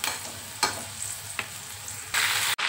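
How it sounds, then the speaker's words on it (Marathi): Potatoes fry in a pan over a high gas flame, a quiet continuous sizzle broken by a few sharp scraping stirs and a louder burst of crackling near the end. "फास्ट गॅसवर थोडेसे बटाटे फ्राय करून घेते।"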